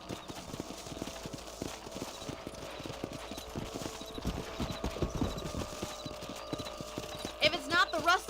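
Horses' hooves clip-clop steadily at a quick, even rhythm in the video game Red Dead Redemption, with a faint whinny near the end over a busy background.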